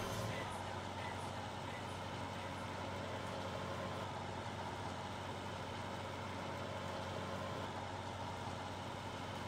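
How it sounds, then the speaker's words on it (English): A tractor engine in Farming Simulator 17 drones loudly and steadily without pause, a dense rumbling hum like a big diesel tractor idling nearby. "It's really loud, this tractor."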